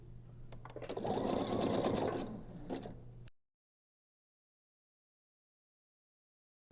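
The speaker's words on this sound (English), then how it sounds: "set my machine for a long straight stitch and baste around the 41-inch piece of the organizer back" Sewing machine running a long straight basting stitch along a fabric piece for a bedside pocket organizer: a steady close mechanical whir for about three seconds that stops abruptly into silence.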